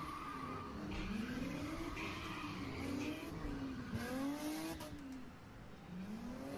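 Chevrolet Camaro ZL1 at an underground street takeover in Philly, engine revving up and down in repeated swells with tyres squealing through a long slide, crowd noise beneath.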